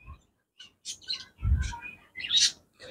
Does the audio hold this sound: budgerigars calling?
yes